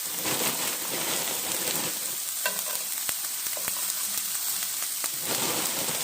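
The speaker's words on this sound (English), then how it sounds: "So I'm going to start frying up some potatoes" Diced frozen hash brown potatoes fry in a pan, a dense, even hiss of crackling oil close by, with scattered sharp spits and pops and no talking.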